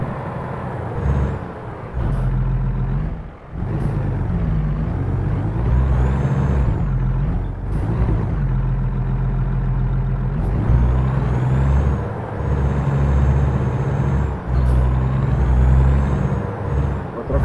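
Heavy truck engine droning and straining as it climbs hills in the video game American Truck Simulator, a loud continuous rumble with gear changes, brief hissing bursts and dips, while someone talks over it.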